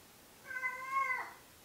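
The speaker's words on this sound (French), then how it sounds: "si jamais vous entendez des miaulements, vous faites pas de soucis. C'est un chat" A single drawn-out cat meow, clear and fairly close, rising and falling over about a second, with no talking.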